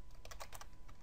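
Keys on a computer keyboard are struck in a quick burst, giving a run of soft, close clicks during email setup in Outlook 2007.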